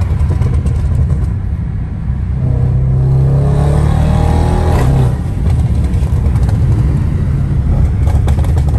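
A BMW 135i engine roars loudly from close by with a deep, constant rumble, and its pitch climbs in a rising rev through the middle before settling back into a heavy drone.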